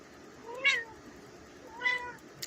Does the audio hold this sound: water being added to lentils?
no